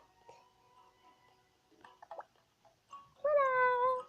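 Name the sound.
cat meowing in a video game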